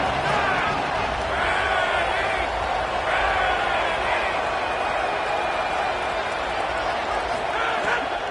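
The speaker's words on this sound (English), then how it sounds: "hotty-toddy, gosh almighty, this crowd is ready" A stadium crowd in a college football video game with an Ole Miss-style atmosphere, a steady roar of fan noise filling the whole stretch with no let-up, some faint whistles or cheers rising above it.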